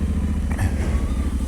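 Off-road motorcycle engine running steadily while riding, a close, loud, low throbbing drone with a brief rise in revs midway.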